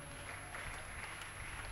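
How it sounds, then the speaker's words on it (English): Church congregation at a healing and deliverance crusade applauding together, a sustained soft patter of clapping from a crowd throughout. "Can you clap for him"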